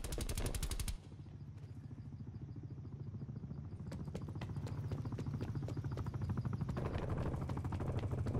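Rapid rhythmic thudding of attack helicopter rotors mixed with bursts of machine-gun fire in Call of Duty: Black Ops Cold War, loud and continuous, with game-like effects layered on top.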